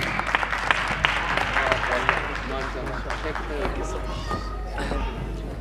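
Audience applause at a mushaira poetry recital in Portsmouth, a dense wash of many hands clapping steadily with crowd murmur beneath, filling the room before the poet Shakeel Ahmed begins.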